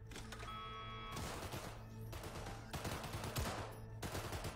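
Gunfire at a target in the video game Cyberpunk 2077 comes in repeated bursts of sharp shots, moderately loud and steady, with no one talking over it.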